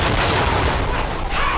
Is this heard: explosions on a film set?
yes